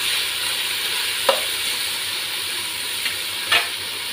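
Brinjal, tomato, onion and green chili frying in a pan, a steady low sizzle with a couple of brief stirring clinks.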